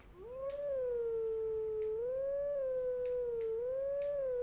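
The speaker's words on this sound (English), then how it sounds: "Okay, so let's go ahead and howl this out." A wolf howls at a Howling Stone in the video game The Legend of Zelda: Twilight Princess HD, one long clear wavering howl rising and falling over a quiet game backdrop, with faint ticks behind it.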